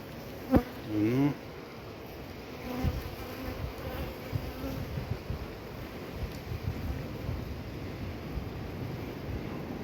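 Honey bees flying around a hive in winter, a low, continuous buzzing hum close by with a couple of louder passes near the start, soft and steady throughout.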